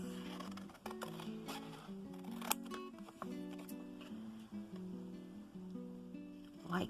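Paper snipped with scissors while cutting out a triangular gift box, with several short crisp cuts and light paper rustling, quiet and close.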